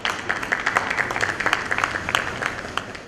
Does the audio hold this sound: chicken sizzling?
no